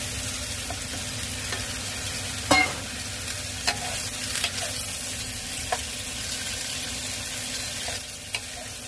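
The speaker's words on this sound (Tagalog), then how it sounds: "Pag mainit na ang ating mantika guys, pwede na natin ilagay ang ating sibuyas." Chopped white onion fries in hot oil, a continuous close sizzle and crackle with occasional stirring clinks and scrapes of a utensil against the pan.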